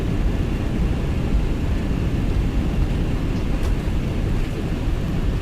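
An MD-11 airliner rolling out after landing in a flight simulator, a steady loud rumble of wind and engine noise under braking, constant throughout with no voices.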